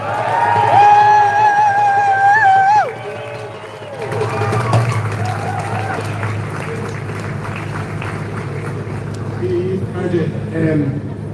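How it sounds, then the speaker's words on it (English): At a national demonstration for Palestine in Dublin, a voice over a loudspeaker gives way to a crowd applauding and cheering, a dense, sustained wash of clapping that carries on for several seconds. "big round of applause for Daniel Lambert"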